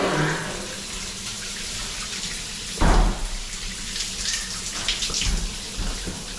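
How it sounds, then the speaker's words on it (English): Running water from a coin-operated shower pours in a steady hiss, with a few louder splashes and bumps partway through and no one speaking. "Water coming down."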